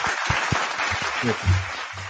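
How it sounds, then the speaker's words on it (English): Brief round of applause from a small group, scattered claps under a continuous wash, with a voice briefly heard over it. "can we get a round of applause, please?"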